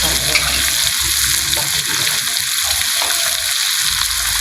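Fish frying in a pan for a home-cooked Bengali fish curry, a steady loud sizzle and crackle of hot oil running throughout with no talk.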